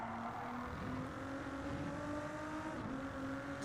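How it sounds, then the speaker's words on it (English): A GT race car engine at Watkins Glen drones steadily from a distance, its exhaust giving a brief rough blat amid the constant mechanical hum. "Just a blat from the exhaust."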